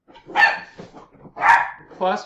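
A pet dog barks indoors, close and loud, in three or four quick, uneven barks and yips within about two seconds, with a brief bit of speech mixed in.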